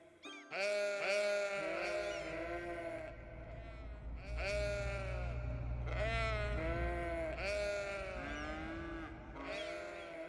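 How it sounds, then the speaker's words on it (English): Sheep bleat in the city-building video game Cities: Skylines, several loud, wavering bleats in overlapping bursts over a low steady hum, with no voices. "Move, sheep!"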